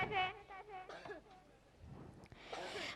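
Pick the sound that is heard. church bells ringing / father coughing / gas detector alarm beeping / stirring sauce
father coughing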